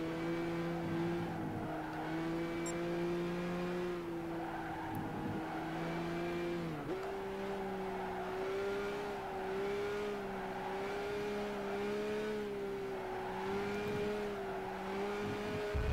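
A Nissan 350Z engine in a racing video game holds a steady high drone, with a brief dip as it shifts and then rises again, plus faint tire squeal, running continuously.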